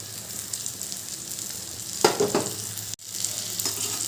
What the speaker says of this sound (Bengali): পেঁয়াজ টমেটোগুলো বেশ ভাজা ভাজা হয়ে গেছে এবার আমি যে মশলার পেস্টটা বানালাম সেটা দিয়ে দিচ্ছি